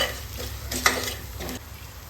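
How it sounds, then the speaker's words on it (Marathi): Kashmiri chili, coriander-cumin and garam masala spices sizzle in hot oil while a spoon stirs them through, a soft steady frying hiss with a couple of brief scraping strokes, close and alone. "हे सर्व मसाले टाकून चांगलं परतून घ्यायचं आहे"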